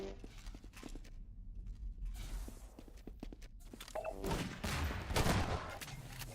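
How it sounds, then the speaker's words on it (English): SMG bursts and shotgun blasts ring out in a Half-Life 2: Deathmatch 1v1 duel, sharp repeated shots mixed with footsteps, growing denser and louder toward the end. "Nice SMG shotgun combo there on Afer."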